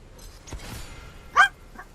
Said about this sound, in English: The dogs get a little excited when we get that victory royale